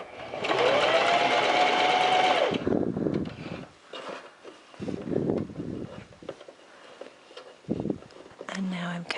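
A sewing machine stitches bias tape around a garment armhole, a loud steady mechanical whir for about two seconds before stopping, followed by someone talking close by over faint handling of the fabric.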